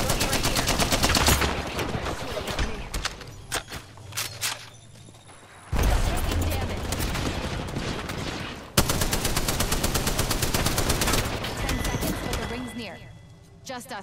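Rapid gunfire exchanges in the battle royale shooter Apex Legends, with bursts of automatic shots and single cracks, close and loud, overlapping game sounds and speech.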